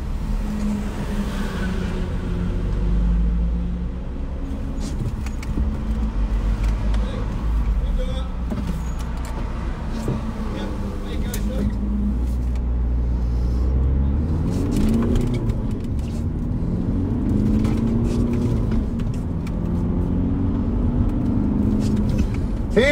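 Heard from inside, a car drives around the Brands Hatch circuit with a low, droning engine that swells and eases steadily while people talk and cheer over it.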